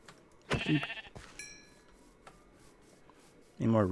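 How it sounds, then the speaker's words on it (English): Blocky game sheep bleating in Minecraft, a few short wavering bleats spaced across the moment, moderately loud against quiet background with faint game ambience. "Sheep."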